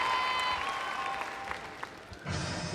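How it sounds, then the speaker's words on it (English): Crowd at a gymnastics floor final applauding a gymnast, sustained clapping and cheering in a large arena with a faint tonal hum, a brief dip, then a swell of louder applause near the end. "You can hear the crowd all getting behind her"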